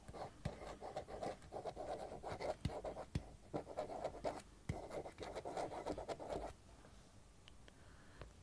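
Writing on a board: scratchy strokes repeat steadily in short bursts with occasional sharp taps, close and moderately loud, then stop near the end and leave a quiet room.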